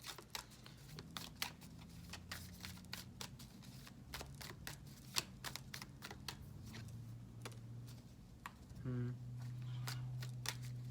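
A tarot deck is shuffled in a long run of crisp card riffles and flicks, steady and close, with a low hum underneath and no talk.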